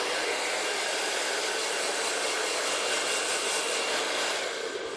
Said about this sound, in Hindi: एक तरफ हीट नहीं देना है, आपको चारों तरफ रोटेट करना है, इसको शेक करते रहना है, ऐसे हिलाते रहना है ड्रायर को।